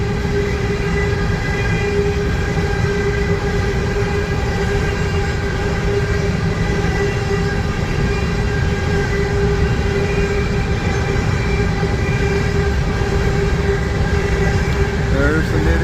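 A northbound freight train with a mid-train locomotive rolls through downtown Cartersville, Georgia, a loud, steady, close rumble of wheels and engine droning throughout with tonal hum, while a voice speaks over it.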